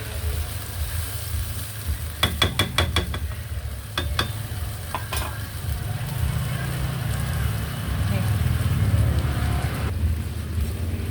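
Fermented mustard greens (burong mustasa) are sautéed in a pan after some of their juice is added. A steady sizzle runs under bursts of quick spatula scrapes and clicks against the pan, close and moderately loud.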